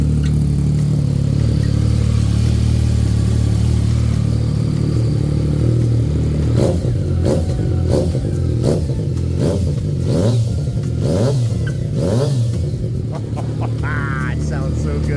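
A 2015 Yamaha FZ09 motorcycle on a cold start idles with a deep, gruff rumble, then gets a series of sharp throttle blips in quick succession, loud and close, before dropping back to idle.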